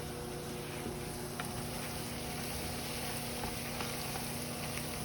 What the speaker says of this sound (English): I like to saute them now before I put them in